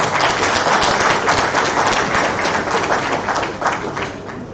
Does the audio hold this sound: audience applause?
yes